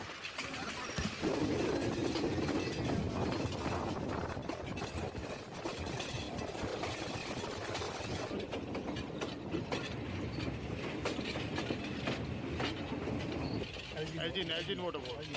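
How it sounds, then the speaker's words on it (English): Passenger train rolling through Sri Lanka's hill country on a scenic journey, a steady loud rumble with rhythmic clatter of wagons throughout, birds faintly audible and some indistinct voices. "A scenic train journey through the hill country took us to ELGIN waterfall."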